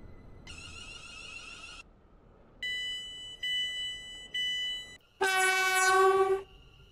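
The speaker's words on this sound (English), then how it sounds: "The train now approaching Platform 4 terminates here" Electronic station chimes and a synthetic train horn sound in separate bursts, then a loud blaring horn, over low rumbling train noise, as a train arrives at a platform in the video game SCR.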